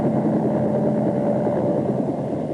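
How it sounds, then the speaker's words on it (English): Helicopter rotor noise, a loud, continuous rumbling drone with a steady throbbing texture, filling the air with no voices over it. "Actually, the rotor noise sounds like this."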